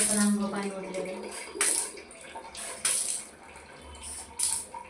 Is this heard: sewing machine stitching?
no